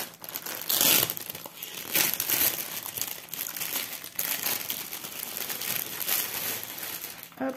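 Crinkly plastic packaging of a cross-stitch embroidery kit is opened by hand, giving close, irregular crackling and crumpling in several bursts over a few seconds, with no talking.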